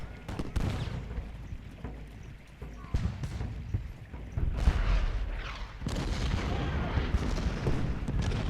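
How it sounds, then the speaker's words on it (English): In a video game battle, scattered booming cannon blasts go off at irregular intervals, some sharp and close, others duller, over a rumbling battle din. "Some cannons here."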